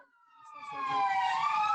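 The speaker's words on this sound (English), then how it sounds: "there you are again. Ambulance." A siren from an emergency vehicle passing outside, its wailing tone rising and swelling steadily louder over a low traffic rumble, with no talk.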